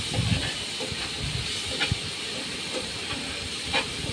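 Spices with chilli and cumin powder fry in a pan for gura fish curry, making a constant hissing sizzle broken by occasional stirring clicks, with no speech.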